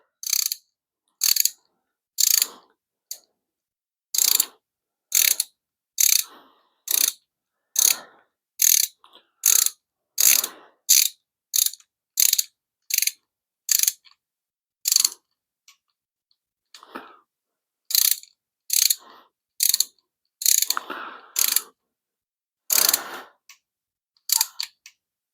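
A torque wrench ratchets on bolts during a 5.7 Hemi engine build, giving sharp, close clicks in quick clusters with short gaps between them, heard alone with no talking.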